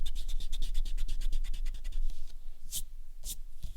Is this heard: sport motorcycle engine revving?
no